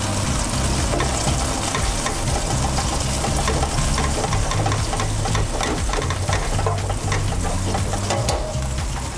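Anchovies sizzle in a very hot pan with a splash of extra virgin olive oil, a loud, dense, continuous frying crackle with steady bursts of spitting, close and alone.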